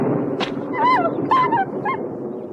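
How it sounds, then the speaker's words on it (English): Tracking dogs from the Rambo film yelp and whimper in a few short, pitched cries, close and fairly loud over a low rumbling background. "Rambo successfully kills all of Will's tracking dogs"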